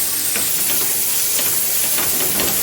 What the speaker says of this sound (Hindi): मिक्स करेंगे अच्छे से और प्याज को गुलाबी होने तक पकाएंगे। गैस को हमने मीडियम पे रखा है।